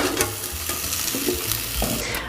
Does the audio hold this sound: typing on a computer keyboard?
no